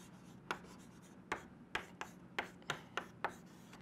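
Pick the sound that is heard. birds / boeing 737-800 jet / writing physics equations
writing physics equations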